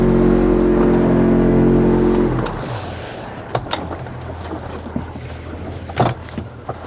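A steady low boat engine drone rumbles loudly for about two seconds in fog, then cuts off, leaving quiet water and wind noise with a few clunks.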